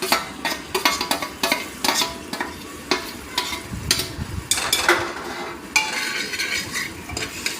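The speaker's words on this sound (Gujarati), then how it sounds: "હલાવી લઈશું. મસાલો બળી ન જાય." Spices with ginger-garlic paste sizzle and fry in a pan while a spoon stirs and scrapes against the metal in quick, uneven strokes, close and fairly loud, with no talking.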